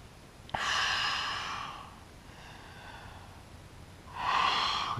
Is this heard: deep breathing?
yes